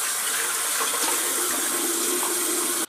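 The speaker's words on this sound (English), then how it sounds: "So I'm going to wet my head up" Water running steadily from a bathroom tap while a head is wetted before shaving with a safety razor, a loud close continuous gush that stops abruptly at the end.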